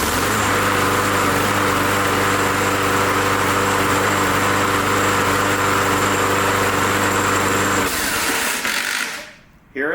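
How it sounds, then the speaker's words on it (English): A small motor is cranked over by its own starter, giving a loud, steady mechanical whir that holds for several seconds, shifts in tone, then winds down and stops. "it's going to crank the motor over"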